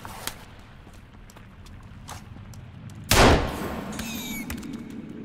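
Pistol gunshots in the survival video game Sons of the Forest: a single loud sharp crack stands out midway, with a few faint earlier pops and footsteps beneath a steady ambient bed.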